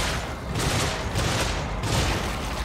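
Gunfire in The Evil Within, with a few loud, broad blasts in quick succession over a dense, noisy background.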